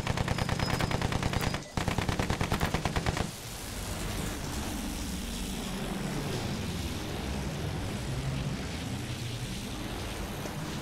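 Rapid machine-gun fire rattles loudly in Battlefield 1, then gives way to a steady, loud drone of a fixed-wing aircraft flying overhead with scattered distant shots.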